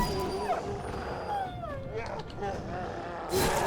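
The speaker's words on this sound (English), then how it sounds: "Okay, that was my dog." A pet dog yelps and howls in a high, wavering voice from a nearby room, partly under a person talking over game audio, with a brief louder burst near the end.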